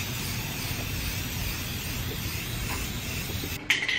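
Rust-Oleum metallic spray paint hisses out of the can in one continuous, steady burst close by, ending with a small click near the end.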